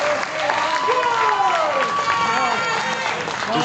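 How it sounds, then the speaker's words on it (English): Wrestling fans at a New Texas Pro championship match cheer and applaud for two competitors, a thick continuous roar of clapping and shouting with whistles and rising yells, loud and sustained from start to finish. "This crowd showing their appreciation for these two warriors."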